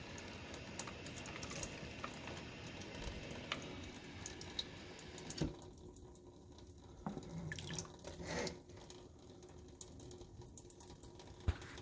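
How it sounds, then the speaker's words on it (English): Water runs and splashes steadily into a basin as it flows out of a clothes steamer being descaled with vinegar, with the flow shifting and gurgling partway through; no voices. "we're going to shoot some water down this end, and it's going to come out"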